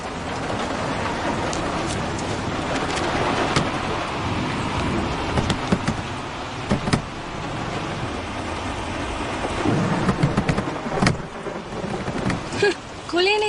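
Heavy rain pours steadily during a thunderstorm, with rumbling thunder and sharp crackles rising over the constant downpour; a car's engine hum and occasional voices sit underneath.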